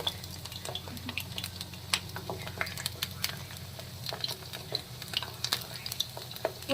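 Cabbage pakoras frying in mustard oil give a steady close sizzle and bubbling, broken by occasional clicks and light scrapes of stirring.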